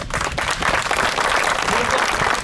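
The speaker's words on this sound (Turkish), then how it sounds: "Hepimiz için, kendimiz için büyük bir alkış." A gathered crowd of protesters against a chrome plant applauds loudly and continuously, a dense wash of clapping hands close by with voices mixed in.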